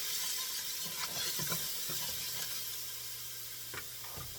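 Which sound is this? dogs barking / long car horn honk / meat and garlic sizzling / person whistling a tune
meat and garlic sizzling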